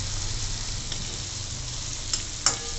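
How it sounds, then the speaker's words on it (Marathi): Spices tempering in hot oil for a cabbage dish give a steady, close sizzle throughout, with a couple of brief clinks or stirs near the end. "आता आपली फोडणी छान खमंग झालेली आहे."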